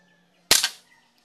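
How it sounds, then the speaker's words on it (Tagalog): A single sharp crack from a Chiappa M4 .22lr rifle fired with a silencer, close and abrupt, with a short decaying tail out of an otherwise quiet background. "So, firing sir."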